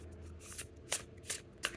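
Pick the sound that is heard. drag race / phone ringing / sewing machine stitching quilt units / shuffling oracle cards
shuffling oracle cards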